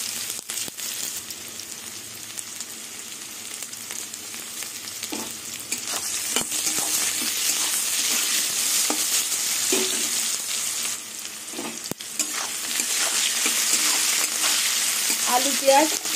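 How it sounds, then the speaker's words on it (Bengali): Potatoes and onions frying in a pan for a Bengali home recipe, giving a steady, fairly quiet sizzle with occasional scraping and clinks of a spatula stirring, no voices. "আলু পেঁয়াজ কিছুক্ষণ ভেজে নেব।"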